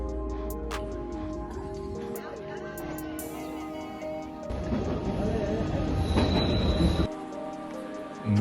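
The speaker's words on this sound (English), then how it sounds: "we took the train to visit Schilthorn" Train climbing toward the Schilthorn summit in the Swiss Bernese Alps, with a steady rolling rumble, squealing wheels and clatter building midway, under intermittent voices nearby.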